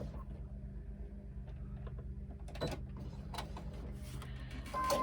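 A domestic sewing machine runs steadily through a side seam on a crossbody bag, its low motor hum and rapid needle rhythm continuous and close, with a brief pause and restart midway.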